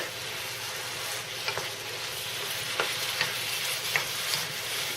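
Worcestershire sauce goes into a Shire pie filling sizzling in a pan, giving a steady, dense frying hiss broken by soft stirring clicks, close and alone.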